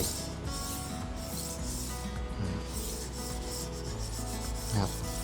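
Steady, close scraping and rubbing of a knife against a 1000 grit whetstone using a rolling knife sharpener, continuous and even, with a soft clack near the end.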